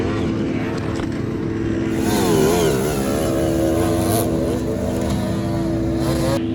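Enduro motorcycle engine revving up and down as the bike picks its way over a hard enduro race course, loud and close, with throttle blips rising and falling over a steady rumble.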